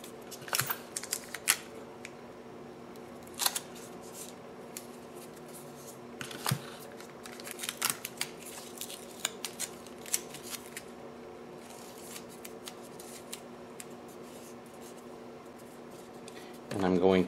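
Tape being pulled and pressed around a rolled construction paper pen, a series of quiet sharp crinkles and tearing clicks scattered over a steady low hum, ending in a louder rustle.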